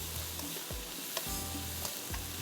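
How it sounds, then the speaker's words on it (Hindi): Chicken and vegetables stir-fry on a high flame with a soft, even sizzle and regular scraping stirs at a moderate distance. No voices are heard. "हाई फ्लेम पे आपने इसको हल्का सा स्टर फ्राई करना है"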